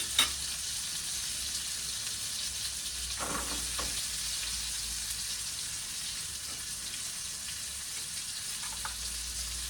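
An egg frying in a pan gives a steady, close sizzle with soft crackle and spatter that runs unbroken throughout, with no voices.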